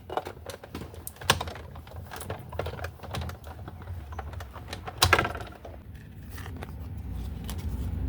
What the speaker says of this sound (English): I'm going to take my embossing folder and I'm going to run this through my Big Shot machine